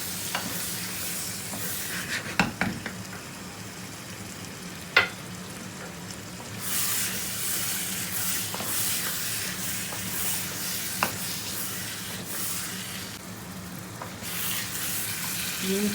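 Lamb mince and capsicum frying in a hot kadhai, a constant sizzle with scraping spoon strokes and a few sharp clanks against the pan, the hiss swelling in bursts when the mixture is stirred.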